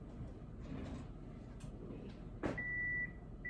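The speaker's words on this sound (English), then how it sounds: "turn off my timer here" A kitchen timer goes off while macarons bake, giving a sustained electronic beep that stops and then briefly starts again. A short knock comes just before it, over quiet room noise.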